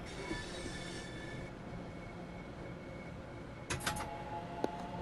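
A British train in the Train Sim World game on the Rainham to Gravesend route rumbles along steadily with a continuous low drone, a few brief squeaks and clicks rising near the end.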